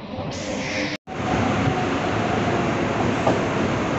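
Unreserved local passenger train from Faridabad Old toward Nizamuddin running steadily, a loud continuous rumble and rattle from inside the carriage with a brief drop near one second, no talk.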